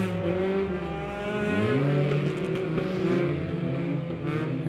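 Dirt track race cars roar around Lebanon Midway Speedway in a heat race, with several engines revving loudly and steadily close by as they rise and fall in pitch through the corners.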